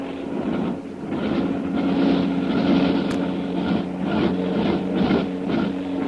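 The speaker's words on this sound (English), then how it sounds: "Karnak's plane. It's swinging back to the lake again. Well, there's something wrong. Boy, oh, boy, I'll say there is. Listen to those motors." Droning airplane motors pass overhead as a radio drama sound effect, a steady layered hum that pulses and swells in waves, alone with no voices.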